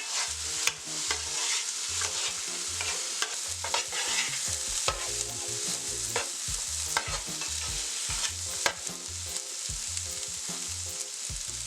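Seasoned salted beef sizzles steadily in hot oil with aromatics for a Caribbean breadfruit oildown, with repeated close stirring scrapes and clanks of a utensil against the pot throughout.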